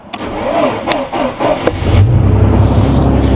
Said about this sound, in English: take the car out for a quick little test drive